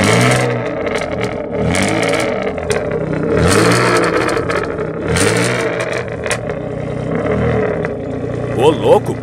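A lowered car with a modified 1.0 eight-valve Fire engine revs hard at a car meet in a gymnasium, with repeated loud throttle bursts and crackling pops close by, and a few voices underneath.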